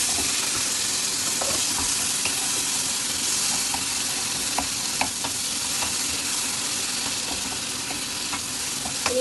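Tomato frying and being stirred in a pan, a steady broadband sizzle with scattered scraping clicks from the stirring, close and continuous throughout, no voices.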